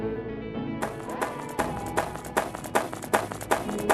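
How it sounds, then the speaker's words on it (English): Footsteps of an infected player creeping closer in the VR party game Alpaca Party, a steady series of sharp taps growing more regular and pronounced, set over a soft musical background. "It's the infected's footsteps creeping closer."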